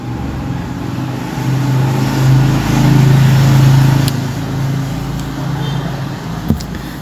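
Motorcycle traffic rolls past on a Banyuwangi road, a steady engine drone that rises and falls as bikes go by, ending with a brief sharp knock.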